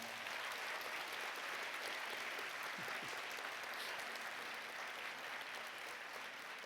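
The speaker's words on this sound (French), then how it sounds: "je vous demande encore d'applaudir la mythique, historique Madame Liliane Balfroy" A hall audience at the final of a French spelling dictation contest claps for a guest of honour, a steady, dense wash of applause that holds at an even level throughout with no voices standing out.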